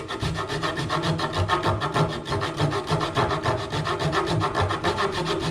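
A hand saw flush-cuts wood with quick, rhythmic back-and-forth rasping strokes, close and steady throughout with no talk.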